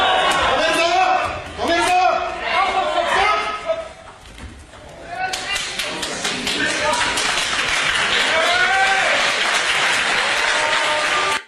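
A crowd claps during a martial arts bout, the dense clapping mixed with voices talking and shouting over it, breaking off briefly midway and then surging back strong and sustained until a sudden cut.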